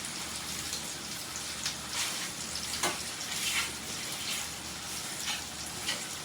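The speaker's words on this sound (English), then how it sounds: "I'm just going to take my spoon here and chop them up while they're good and hot" A spoon chops tender cooked broccoli in a hot pan, the softened florets sizzling and crackling steadily up close, with several sharper scraping taps of the spoon against the pan.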